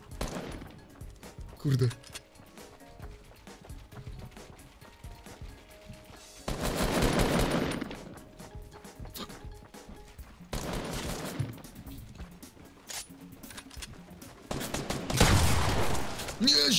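Bursts of gunfire in the video game Fortnite, a Bedwars creative-mode match, come in three or four separate volleys a few seconds apart, with someone talking excitedly between and over them.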